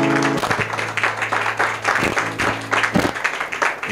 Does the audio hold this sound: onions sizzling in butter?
no